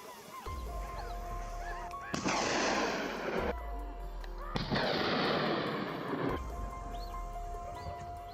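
Gunfire during a helicopter hunt for wild hogs over the Okmulgee forest: two long bursts of rapid shots, each lasting over a second, over a steady engine drone with faint chirps between them.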